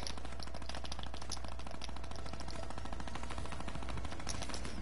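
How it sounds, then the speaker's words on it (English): Rapid automatic gunfire in a video game: a dense, continuous rattle of shots at an even moderate level, steady for the whole stretch with no talk. "all I hear is shooting"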